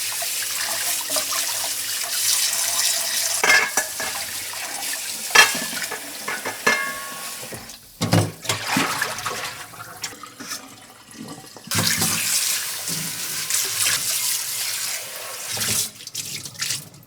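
Tap water runs steadily into a kitchen sink while blanched beef short ribs for galbi-jjim are rinsed, with rushing flow broken by brief pauses and clatters as the meat is handled.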